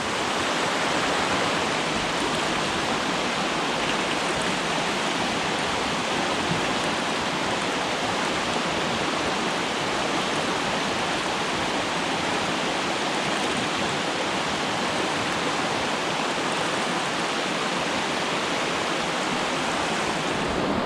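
Rushing rapids on the Vantaanjoki river at Nukari, flowing through lush woodland, make a loud, constant broadband roar of churning water that stays unbroken and close throughout.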